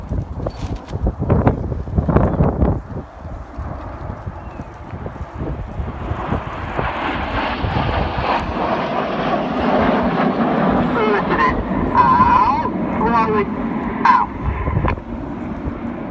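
Red Arrows jets roar through an air show display manoeuvre at Cosford, a broad, sustained rumble that swells and shifts as they roll past. Wind buffets the microphone and a commentator talks over it.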